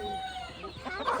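A mother hen on a small chicken farm gives a short run of soft clucks, fairly faint and close, over quiet background noise with no talk.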